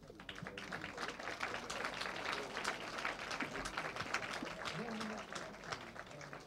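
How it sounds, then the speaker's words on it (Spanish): A forum audience at an international hand-hygiene event claps steadily for several seconds, a dense patter of many hands at moderate distance and fairly even in loudness throughout. "fuerte aplauso"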